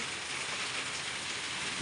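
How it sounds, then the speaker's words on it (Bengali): Heavy rain pouring down outdoors as a dense, steady hiss, close and unbroken with no voices. "আমাদের এখানে চরম বৃষ্টি হচ্ছে"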